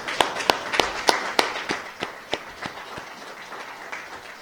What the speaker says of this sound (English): I'd like to give Clay a round of applause.